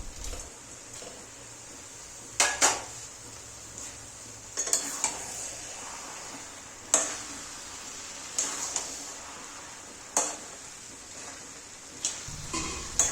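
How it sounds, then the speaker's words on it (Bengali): Fish head pieces go into a pan of sautéed mixed vegetables, heard as a light background sizzle broken by several sharp, close clinks and scrapes of a utensil against the pan. "এবার মাছের মাথাটিকে এভাবে টুকরো করে দিয়ে দেবো"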